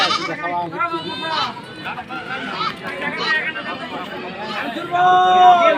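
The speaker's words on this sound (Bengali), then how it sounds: "খুব চমৎকার দুটা কিন্তু খাসি ছাগল" Castrated goats bleat at a busy livestock market, several loud wavering calls rising over constant crowd chatter and nearby voices, with one clear bleat standing out near the end.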